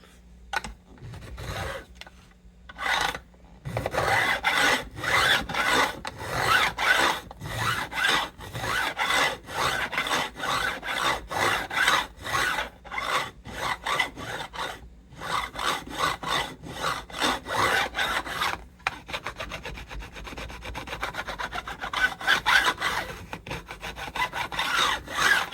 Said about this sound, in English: We'll clean them up with the file.